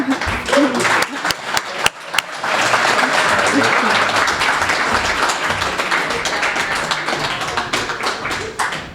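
A room of people applauds at an entrepreneur pitch event, starting with scattered sharp claps and swelling into dense, steady clapping that holds loudly before easing slightly at the end.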